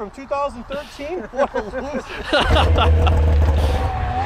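A 2-stroke snowmobile engine idles loud and close, a steady low droning rumble that takes over after a couple of seconds of people talking nearby, with voices continuing faintly beneath it.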